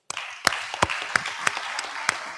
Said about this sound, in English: please give a big applause for all the panelists